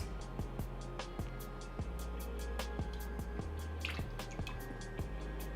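Avocado oil trickles into soy sauce in a run of close, distinct drips and small liquid plops at an uneven rhythm, fairly quiet overall.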